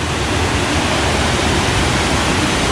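Steady, dense rush of a river stream flowing along a waterfall trek near Curug Cikawah in Pamijahan, Bogor, heard as continuous broadband water noise that stays even and close throughout, with no voices.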